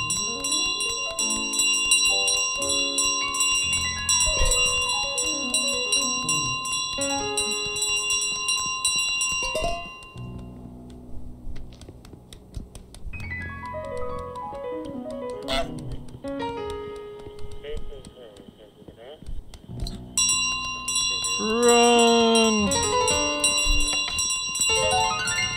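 A bell rings repeatedly in Untitled Goose Game, bright metallic tones jangling in bursts over playful game music, while a player talks and exclaims between the rings.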